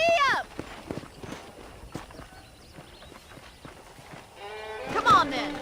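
Horse hooves clip-clop at a steady walking pace on a ranch in the Red Dead Redemption video game, with voices talking over the soft, regular hoofbeats.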